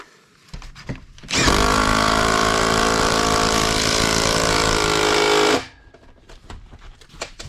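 An impact wrench fitted with a chrome socket whirs and hammers in a single loud, sustained burst of about four seconds. Quieter clicks and clinks of handling come before and after it during homestead chores.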